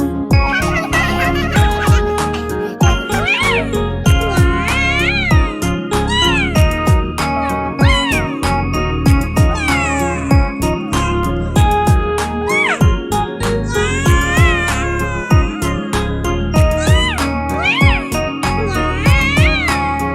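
Cat meows rise repeatedly over steady background music with bright tinkling notes, forming a continuous, fairly loud and busy mix.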